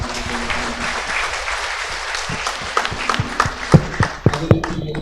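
A church congregation applauds at a silver wedding jubilee Mass at Christ the King Church. The applause is a broad wash of clapping that grows into sharper, distinct claps near the end.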